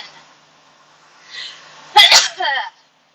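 A single sharp, loud sneeze bursts out close by after a quiet stretch, with a brief breathy build-up just before it.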